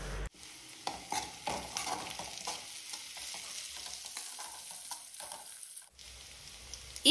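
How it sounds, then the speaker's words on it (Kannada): A spoon stirs turmeric through a potato and pea mixture frying in a pan, with steady sizzling under irregular scraping strokes, close and fairly quiet, ending in a brief louder clatter. "ಈಗ ಇದಕ್ಕೆ ನಾನು ಸ್ವಲ್ಪ ಅರಶಿನ ಸೇರಿಸ್ಕೊಂಡು ಮಿಕ್ಸ್ ಮಾಡ್ಕೊಳ್ತೀನಿ"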